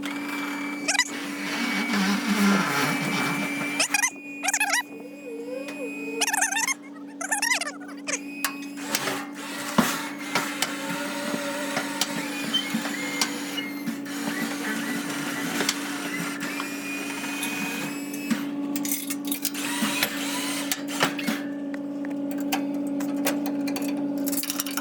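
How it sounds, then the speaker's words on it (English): A winch whines steadily with a constant hum, pulling a junk dumpster up onto a trailer, accompanied by clanks, rattles and scraping metal for over twenty seconds at moderate, close range. "I'm gonna go ahead and winch it up."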